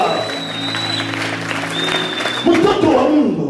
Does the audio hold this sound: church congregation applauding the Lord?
yes